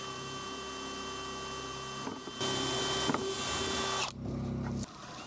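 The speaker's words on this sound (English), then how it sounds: "I started off with drilling a couple small pilot holes." A power drill bores small pilot holes for mounting a seat on a homemade waterless toilet, a steady motor whine that swells louder for a couple of seconds, then drops back and stops.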